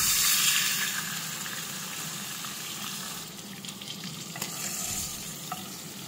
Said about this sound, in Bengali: ঠিক একইভাবে বাকি মাছগুলোকেও আমি ভেজে নেব।